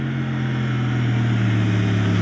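A CF Moto MT450 motorcycle engine hums steadily while riding, a loud continuous drone with even tonal bands and wind noise, without talk.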